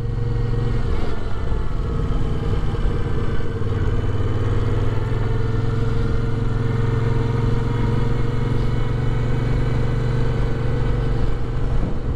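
A Moto Guzzi V7 shaft-drive motorcycle engine drones steadily while riding, a loud continuous low hum with wind noise and no break throughout.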